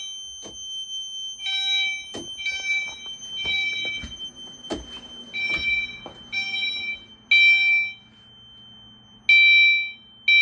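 An EST Genesis fire alarm horn sounds during a security system test, repeating bright tonal blasts in a steady pulsing pattern, loud and close, with a few clicks and taps between.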